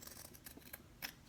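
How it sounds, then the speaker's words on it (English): Scissors trim the lining of a sewing project in a few quick, quiet snips, close by and faint, with light rustling of fabric between cuts. "So, now we're going to trim this"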